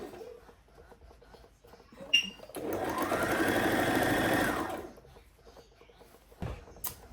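A sewing machine running a line of loose basting stitches down a zipper allowance on a sleeveless pleated gown, one steady whirring burst of about two seconds, close and clear, framed by quiet handling noises before and after.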